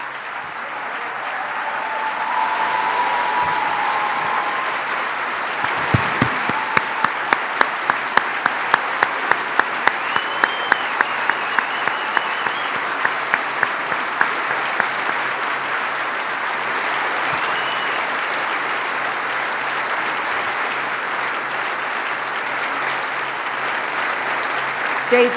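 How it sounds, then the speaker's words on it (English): Sustained applause from a large audience at a New York governor's inauguration honoring blizzard responders, a broad loud clapping wash lasting over twenty seconds, with a few rhythmic unison claps partway through before it gradually thins. "let's give these heroes a round of applause"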